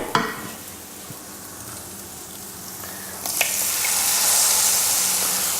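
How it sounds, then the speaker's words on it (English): Canned tomatoes pour into a pot of sizzling chicken for an Indian-spiced one-pot dish; a quiet fry gives way after a clatter to a loud, broad sizzle that swells and holds steady, with no talk. "Now, we can put in the cans of tomatoes."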